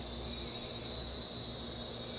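Continuous shrill buzzing of insects, like cicadas droning on a hot day, even and unchanging throughout with a faint low hum beneath.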